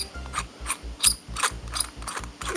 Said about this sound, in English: And we're going to unscrew the base of the tank.